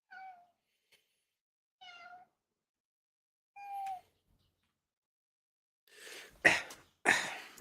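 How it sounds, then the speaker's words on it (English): Indoor cats give three short, clear meows spaced a second or two apart. A harsh, coughing or sneezing burst follows, with a second burst close after it. "the cats are being as annoying as possible"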